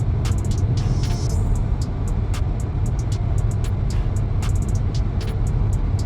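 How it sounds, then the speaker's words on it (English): A 2023 Volvo S60 driving on the road, heard as a steady loud rumble of engine and tyre noise from inside the car, with faint clicks and ticks over it. "Right now, I'm test driving the SC60, the Volvo SC60."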